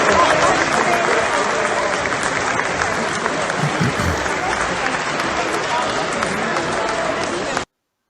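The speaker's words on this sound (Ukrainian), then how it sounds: "її, як ви побачите зараз, проважали оплесками" Applause in the Ukrainian parliament, a dense, continuous roar of many deputies clapping in a large chamber, steady and loud with murmuring voices beneath, cutting off abruptly near the end.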